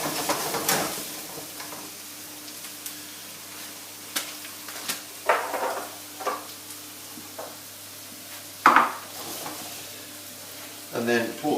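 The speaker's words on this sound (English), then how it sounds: "So we've got the onions browning off there already. What we'll do is we'll put the peppers in." Peppers tipped into a pan of browning onions, steady sizzling and frying with intermittent stirring scrapes and clatter at close range, soft and fairly quiet throughout.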